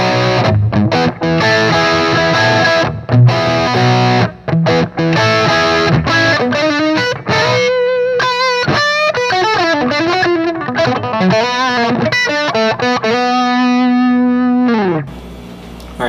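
Electric guitar with its tone knob set around 7 plays a classic rock riff in a crunchy overdriven tone, loud and alone, with chords and single-note bends.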